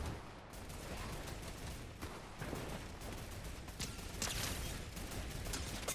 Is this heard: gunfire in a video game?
yes